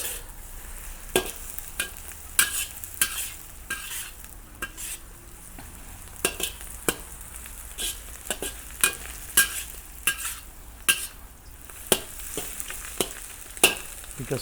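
Stir-fry with soy sauce sizzles in a wok, a soft constant hiss broken by repeated sharp scrapes and clacks of a utensil stirring at an uneven rhythm.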